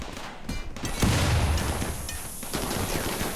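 Rapid bursts of gunfire from raiders in the video game Rimworld, with dense overlapping shots in a steady barrage.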